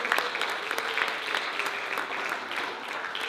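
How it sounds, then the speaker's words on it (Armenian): An audience applauds two teachers at an Armenian language arts event, a steady room-filling wash of clapping that holds at an even level. "Խնդրում եմ ծափահարեք Մերի Բարակյանին և Մերի Սաղաթելյանին"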